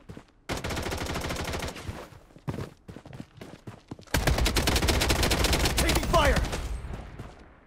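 AK-47 fire in the mobile shooter Blood Strike, loud close bursts of rapid automatic shots, one short burst, a few single cracks, then a long sustained stream of fire that tapers off.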